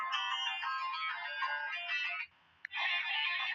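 A phone ringtone sounds during an outgoing call: a steady melodic electronic tone that plays loudly, breaks off for a moment, then resumes.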